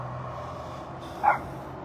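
A dog gives a single short bark or yip outdoors near a large boar black bear in the Fort Nelson area, a brief moderately loud burst over steady background noise.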